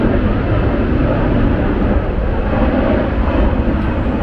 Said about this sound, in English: Plane is taking off, guys.